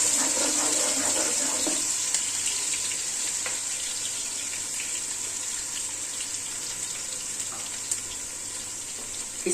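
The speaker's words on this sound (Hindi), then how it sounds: "प्याजों को फ्राई करने के बाद" Onions fry in a cup of hot oil in a wide pan, giving a steady, bright sizzling hiss that continues evenly throughout without any talking.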